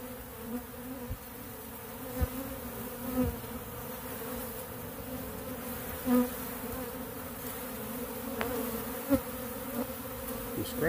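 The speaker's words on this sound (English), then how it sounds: "Amazing how much fun you can have out a little bitty swarm this small." A small swarm of bees hums in a steady, moderate buzz close by, with a few sharper scraping knocks and bumps scattered through it and no voices.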